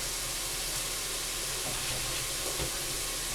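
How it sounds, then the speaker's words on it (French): Mushrooms and onions browning in a Cookeo electric cooker give off a steady, soft sizzling hiss that stays even throughout, with no talk. "Donc je fais revenir les champignons un peu aussi."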